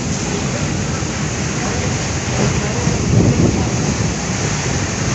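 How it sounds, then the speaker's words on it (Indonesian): Heavy rain and strong wind lash outside at Bakauheni port in Lampung, a dense, loud, steady roar with gusts that swell partway through, recorded close to the weather. "Bisa dilihat di luar hujan deras ya,"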